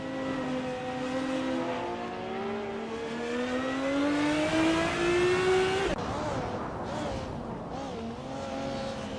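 A Ferrari F50 GT racing in a video game race, its engine whining higher through the gears in a long rising pitch, then dropping abruptly on a shift before climbing again, loud and continuous.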